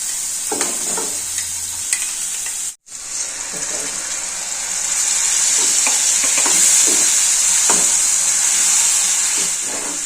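Onions sauté in oil for a chutney, a close steady sizzle and hiss that grows fuller and louder midway, with occasional stirring clicks and a brief dropout near the start.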